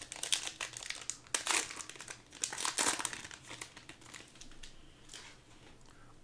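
A 2023 Zenith football trading card pack is torn open by hand, its foil wrapper crinkling loudly and closely in bursts that fade to lighter rustles toward the end.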